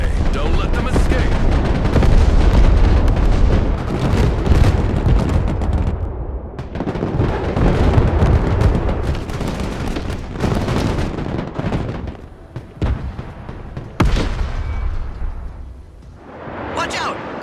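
Ballistic missile strikes hit in the Broken Arrow war game, with loud, dense booming blasts and rolling rumble across the whole stretch, a few sharper cracks, and brief lulls between heavy bursts of fire.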